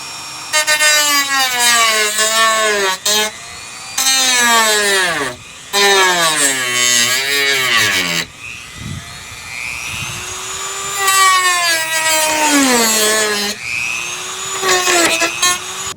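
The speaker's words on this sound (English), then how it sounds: "So we're just going to use our trusty Dremel." A Dremel rotary tool cuts through a coach door lock on a Winnebago Rialta, giving a loud, close, high-pitched whine that drops and rises in pitch under load, with short pauses between cuts.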